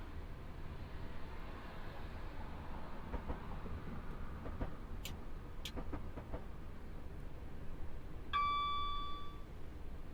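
A Class 319 electric train runs on rails between Bedford and Brighton in Train Simulator Classic, with a steady low rolling rumble, a couple of sharp clicks and a brief ringing chime near the end.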